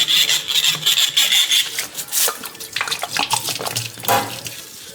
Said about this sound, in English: Take my scrubber, a little bottle scrubber, just go in here, clean that out real good.